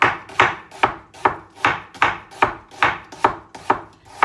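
Onions being sliced very thin with a knife on a cutting board for tomato sauce: a steady run of about ten crisp, close chops at an even pace, with no talking.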